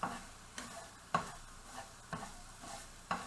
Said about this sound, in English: We're going to brown this rice up a little bit in this pan